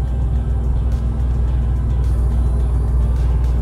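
A Ford Tremor pickup truck in seventh gear coasts downhill off the throttle with a steady low rumble and road noise, the engine droning evenly without any revving.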